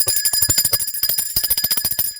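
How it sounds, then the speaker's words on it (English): A small hand bell rung over and over, its bright sustained ringing tones layered above a soft pulsing rhythm, close and fairly loud with no talking. "I'm going to ring the bell for that one."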